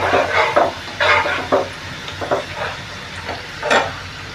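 Garlic sautés in a pan for Schezwan chutney, with a bright sizzle and repeated scraping stirring strokes coming in uneven bursts, close by.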